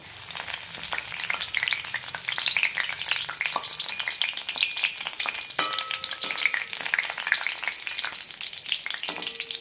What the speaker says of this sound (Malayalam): ഇനി കുറച്ച് കറിവേപ്പില കൂടി വറക്കാം